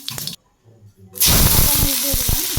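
Whole cumin seeds hitting hot oil in a wok in a Bangladeshi village kitchen, a sudden loud sizzle that bursts in after a short quiet gap and keeps crackling steadily, with a voice speaking just before.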